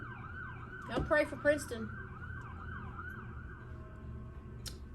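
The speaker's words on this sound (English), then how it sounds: "there is lots of sirens going on" Emergency vehicle sirens wail in the distance, a steady rising and falling tone over low traffic rumble, with a voice speaking briefly partway through.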